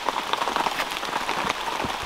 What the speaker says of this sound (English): it's raining out pretty good